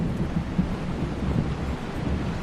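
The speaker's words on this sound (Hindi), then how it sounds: "बारिश भी रुकने का नाम नहीं ले रही है।" Heavy rain drenches a scene from the historical film Panipat, a steady low roaring downpour mixed with gusty, wind-like rumble, with no voices.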